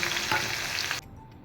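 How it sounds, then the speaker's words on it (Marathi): Onion hits hot oil already seasoned with mustard seeds and cumin for a potato curry, giving a loud, steady sizzle that drops abruptly to a quieter, softer frying hiss after about a second. "त्यानंतर कांदा टाकून घेऊया."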